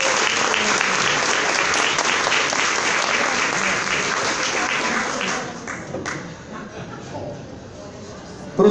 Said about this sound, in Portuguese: Solicito uma salva de palmas